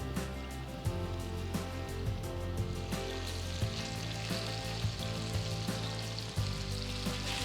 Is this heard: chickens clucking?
no